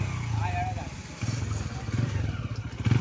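A motorcycle engine on a road, a low throbbing idle and light revving close by, heard under someone talking.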